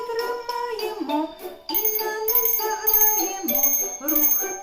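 Small bells tinkling in a children's music class, bright repeated jingles in short bursts alongside a sung or spoken voice leading the group.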